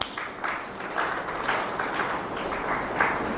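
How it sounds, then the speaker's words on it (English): Applause in a lecture hall after a swami asks the audience to clap, sustained clapping from a modest group, steady and moderately loud with no talking over it. "A few people clapped"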